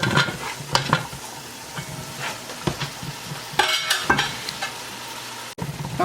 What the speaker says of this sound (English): so that seems like it's sauteed well enough